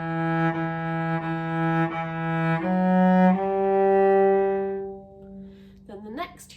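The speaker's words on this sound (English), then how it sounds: "Bars 11 and 12 are going to sound like this." A cello plays a short lesson phrase of bowed notes, several repeated pitches and then a longer held tone, clear and close, ending with a brief voice.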